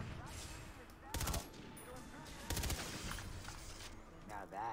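Gunfire in the PC game Far Cry 3 Blood Dragon comes as two short, sharp bursts of rapid shots, with a faint third burst near the end. A quiet, murky game soundscape runs underneath.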